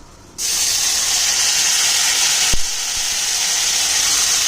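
Oil sizzles steadily and loudly in a pan while chicken cooks for a Gandharaj chicken dish, the hiss starting abruptly and holding constant with one brief clack partway through.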